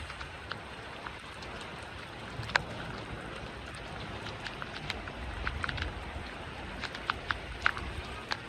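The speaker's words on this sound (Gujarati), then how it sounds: "જુઓ ખાલી વરસાદ ચાલુ" Rain falling over a village makes a soft, steady patter with scattered sharper drips landing on a surface nearby. It stays faint throughout, with no clear talk.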